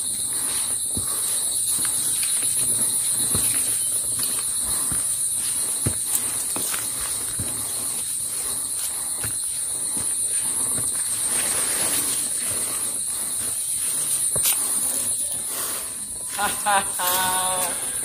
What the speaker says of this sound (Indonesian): tonggeret di sini terus berbunyi sambung menyambung tanpa henti seperti ini